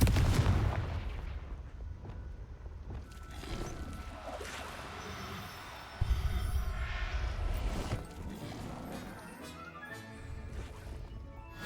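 Confringo fire spell blasts in the video game Hogwarts Legacy, heavy booming explosions rolling over a dense layer of game effects and ambience, with a sharp fresh impact about midway.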